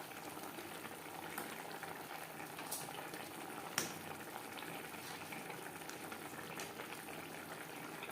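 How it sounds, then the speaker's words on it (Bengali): Fish curry gravy for a spicy fish jhal with onion stalks simmers in a pan, a steady soft bubbling hiss with a few faint clicks, continuous and fairly quiet with no talking. "গ্রেভি ফুটে ওঠা পর্যন্ত অপেক্ষা করব"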